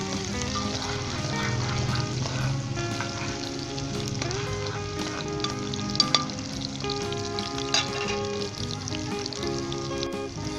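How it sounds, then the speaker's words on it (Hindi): Zucchini fries in a pan until light golden brown, a continuous close crackling sizzle with occasional sharper pops, steady in level throughout. "2 से 3 मिनट तक इसे हम फ्राई करेंगे"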